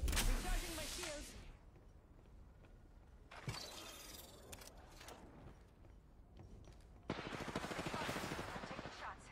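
Video game gunfire in bursts: a sharp volley at the start, a shorter burst in the middle and a sustained rapid rattle toward the end, with quieter game sounds and some talk in between.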